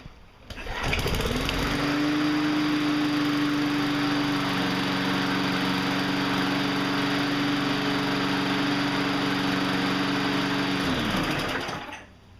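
A 3.5 hp Briggs & Stratton lawn mower engine starts after a pull and runs at a steady, loud, high idle for about ten seconds, then cuts off abruptly.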